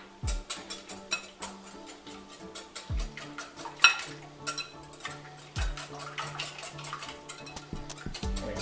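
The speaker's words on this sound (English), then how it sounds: "so we're going to whisk this" Egg filling for a tomato and asparagus quiche, seasoned with a pinch of nutmeg, whisked in a bowl: quick irregular metallic clicks and taps of the whisk against the dish, moderately close, with no voices.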